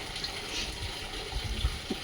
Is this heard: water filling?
yes